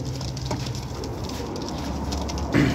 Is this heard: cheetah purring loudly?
no